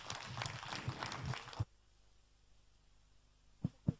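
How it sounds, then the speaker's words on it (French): Audience applause at a meeting, a burst of clapping that cuts off abruptly, then near silence before two faint thumps. "Applaudissez-les tous les deux"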